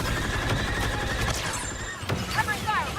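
Rapid, dense gunfire from a Star Wars video game rattles on continuously and loudly, with brief tonal cries and effects rising over the barrage toward the end.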